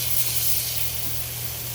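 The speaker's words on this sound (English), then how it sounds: "You want to hear a sizzle when you put it in the pan." Steady, bright hiss of lamb chops sizzling in a hot pan, continuous and close, with a low hum underneath and no talking.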